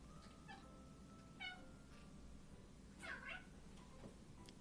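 A house cat meows several times in a row, short rising calls with a longer, louder wavering one near the end, fairly faint and close over a low steady background hum.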